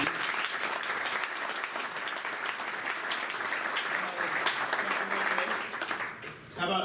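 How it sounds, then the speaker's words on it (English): A group gives a speaker a round of applause at a talk, with loud continuous clapping throughout that thins briefly at the very end, a voice faintly audible beneath it. "let's give him a round of applause"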